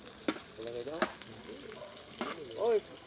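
Chopped onion and garlic sautéing in a pan for papaitan, a steady, soft sizzle and frying crackle running underneath people talking nearby throughout.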